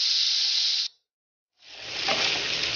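Potatoes fry in a pan until browning, a steady close sizzling hiss that breaks off briefly and then builds back up, with no talk.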